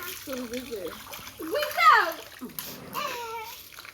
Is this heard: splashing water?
yes